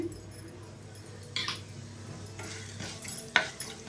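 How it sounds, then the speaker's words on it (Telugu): Tempering spices crackle in hot oil in a home kitchen while mint chutney is made, with a soft steady sizzle and a few sharp clinks and stirring sounds from a utensil. "మనకైతే వే ఆయిల్ వేడెక్కిందండి ఇందులోనైతే పోపు దినుసులు వేసుకోండి"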